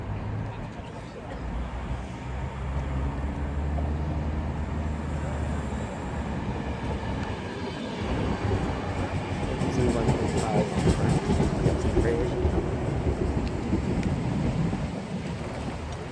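Greater Anglia passenger train arriving at Colchester station, a steady rumbling roll of wheels and carriages building gradually louder, with a voice speaking over it.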